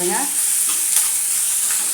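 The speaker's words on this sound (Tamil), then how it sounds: "சேர்த்து நல்லா வதக்கி விட்டுடலாம்." Ginger garlic paste with curry leaves fries in a pan for chana masala. A steady, close sizzle carries on under a few soft stirring scrapes, with no talking.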